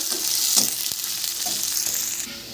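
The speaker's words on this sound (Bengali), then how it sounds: "পেঁয়াজ দিয়ে দেব পেঁয়াজটা একটু লাল করে ভেজে নেব" Onions sizzle in hot oil in a pan as they fry toward brown, a bright continuous crackle with a few soft stirring scrapes and no talk.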